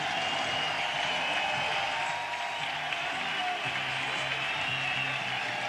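Small but enthusiastic late-night crowd at a Mets–Cubs baseball game applauding pitcher Jorge Sosa as he leaves the mound, a steady wash of distant clapping and cheering that holds evenly throughout.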